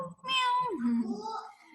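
A cat gives one close, clear meow that rises and then slides downward, with a softer trailing tail at the end.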